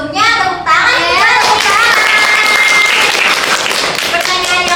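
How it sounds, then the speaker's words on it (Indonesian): Students at a vocational school peer-education session break into applause, dense continuous hand clapping mixed with children's voices and chatter, loud and close throughout. "Sebelumnya tepuk tangan ya."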